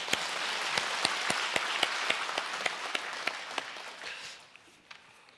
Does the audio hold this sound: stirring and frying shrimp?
no